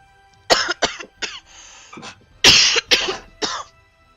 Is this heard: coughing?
yes